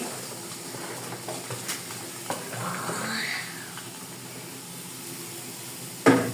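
Vegetables fry in a pan of cooked-down spices with a low, steady sizzle, soft stirring scrapes and occasional clinks, ending in a sharp clatter.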